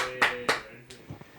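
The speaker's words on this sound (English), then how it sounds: "Claps all around." A few people clap in loose, uneven bursts, two sharper claps followed by softer scattered ones, close up in an indoor setting.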